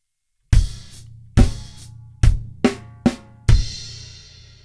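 Drum kit playing the second ending of the intro to a song: five sharp, loud hits with ringing decay, snare strokes spaced unevenly, closing on a sustained crash cymbal wash, no voices.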